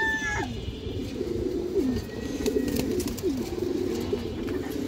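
Soft, rolling coos from a female pigeon with a black tail and light red eyes repeat steadily at close range, with a few brief higher notes early on.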